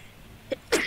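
A game character sneezes in Identity V, a short soft burst followed by a louder, sharper sneeze near the end, heard alone over faint background.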